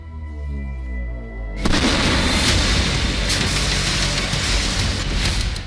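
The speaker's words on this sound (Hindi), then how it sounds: "एक सटीक निशाना, भीषण विस्फोट के बाद धुएं का गुबार" A sudden loud blast breaks in after a low hum, followed by a sustained, dense roar and rumble that stays loud to the end.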